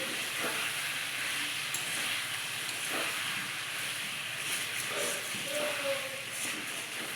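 Mutton being sautéed with chopped tomato and fried potato in a hot pan gives a steady, broadband sizzle and hiss. Occasional soft scrapes of stirring sound over it, close and moderately loud, with no voices.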